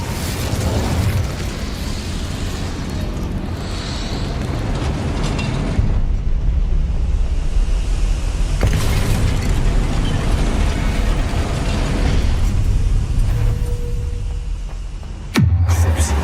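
Incendio fire spell blasts in the Hogwarts Legacy video game roar loudly and continuously, with booming fiery bursts that swell and crackle before a sharp cut near the end.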